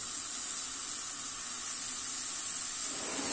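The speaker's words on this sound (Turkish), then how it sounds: "İlk önce havuçları kızartacağım arkadaşlar." A continuous, even sizzle of carrots frying in hot olive oil, a steady hiss close by with no talking.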